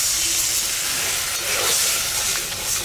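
Water splashed into a pan of hot spice paste with green chilli while making doi katla fish curry, giving a steady loud hissing sizzle that swells slightly and continues throughout.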